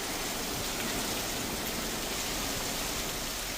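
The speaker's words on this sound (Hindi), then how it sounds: "गरज चमक और बारिश का दौर जारी है।" Heavy rain falling in Maharashtra, a dense, even hiss that holds without a break from start to finish, with no voices.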